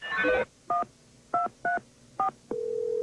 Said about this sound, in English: You dial 777 film and you can find out movie listings.